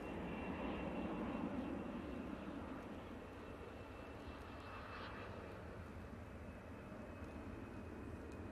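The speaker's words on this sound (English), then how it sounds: "And we've got Logan Air coming in." Loganair Embraer regional jet coming in to land makes a faint, distant steady engine roar that swells slightly then settles into a soft continuous rumble, heard alone.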